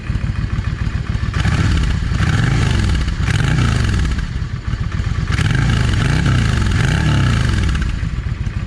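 A Yamaha 650 V Star motorcycle engine idles and revs steadily after a carburetor adjustment, running loud and close with a rough, even throb and no backfiring.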